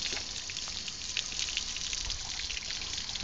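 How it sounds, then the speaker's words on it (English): Water pours steadily from a solar shower outdoors, a constant close hiss of spray with light splattering and no break or voices. "this is solar shower, and it comes out mighty hot"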